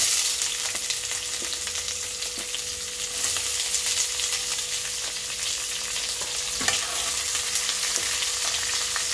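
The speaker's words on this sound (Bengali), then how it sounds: "পেঁয়াজটাকে একটু হালকা ভাজা করে নিচ্ছি" Chopped onions fry in a pan with a steady, bright sizzle that fills the scene, marked by a few faint clicks from stirring. No one speaks.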